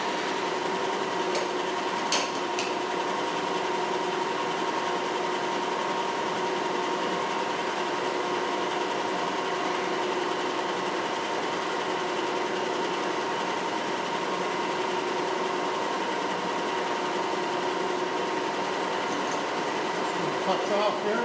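Metal lathe running steadily at about 1,000 RPM, a continuous even mechanical hum with a few faint ticks near the start.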